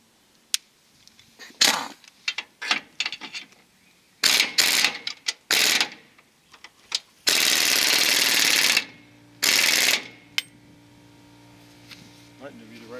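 A wrench tightening the jack on a utility trailer: bursts of ratcheting clicks in short, uneven strokes, a few longer sustained rasps, and a faint hum near the end, all heard up close.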